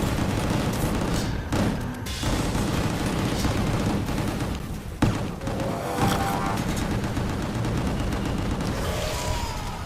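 Dense, continuous gunfire from gun kata attacks in the video game Gungrave, a loud, nearly unbroken fusillade of rapid shots and booms lasting throughout.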